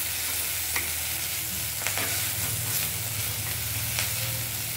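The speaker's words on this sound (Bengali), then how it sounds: "ঘি দিয়ে এগুলো ভাজা হবে।" Spices fry in ghee for a Bengali nabaratna pulao, a steady close sizzle with occasional scrape and clink of a stirring spoon, no talking.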